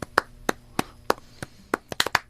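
Hands clap out a flamenco rhythm, sharp crisp claps close by, evenly spaced at first and then bunched into a quicker syncopated cluster near the end, with nothing else between them.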